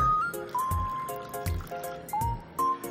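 A can of evaporated milk is poured into a bowl with sugar, vanilla and cornstarch for an egg pie filling, giving wet dripping and glugging sounds over a steady background melody.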